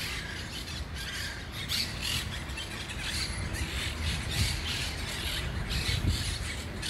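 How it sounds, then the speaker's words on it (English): Birds squawk and chirp in an empty playground area in Tel Aviv during quarantine, their short, repeated calls faint and distant over a soft outdoor background hiss. "listen to the birds."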